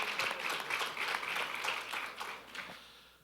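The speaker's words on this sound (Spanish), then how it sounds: "Vamos a dar un aplauso, Señor, por estos siervos de Dios que están aquí" A room of people breaks into applause for a panel at a church Bible-study evening, a dense burst of clapping that swells and then fades over a few seconds.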